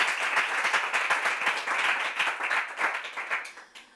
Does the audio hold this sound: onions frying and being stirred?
no